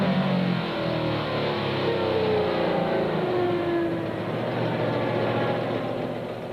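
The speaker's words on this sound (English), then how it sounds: "and just listen to this big Chevy." A big Chevrolet drag racing car engine roars at an Australian drag racing event in 1994, a loud sustained rumble with a slight rising pitch, heard alone without talk.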